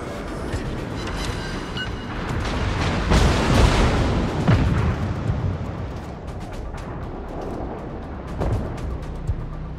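An enemy destroyer blows up in the naval video game Neptune 2890, a deep rumbling explosion that swells to a heavy boom, then slowly fades into low, dull echoes, loud and without voices.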